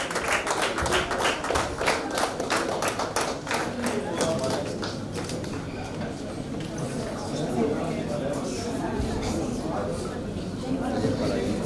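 Applause and clapping from a crowd of parents at a school award ceremony, dense and steady at first, thinning out partway through, with voices murmuring and talking underneath.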